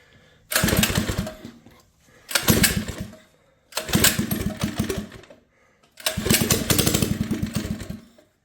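Small single-cylinder engine on a homemade go-kart being converted into a kids' drift kart, starting and running in four loud bursts of a few seconds each, with short pauses between them as it cuts out and is restarted.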